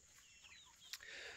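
Chickens cluck softly in a backyard pen holding a flock that includes Rhode Island Reds alongside a turkey, with brief scattered calls and a short rustle of wings over a quiet background.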